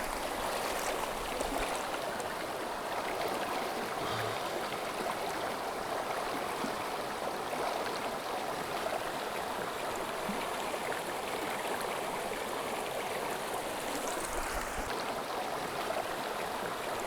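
A mountain stream in Southern California rushes steadily and continuously, a dense, unbroken wash of flowing water with no voices.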